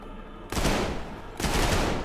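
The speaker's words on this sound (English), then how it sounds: "it's a burst pistol" Burst pistol gunfire in the shooter game Trepang2, two dense loud bursts of rapid shots, the second after a short pause, heard alone without talk.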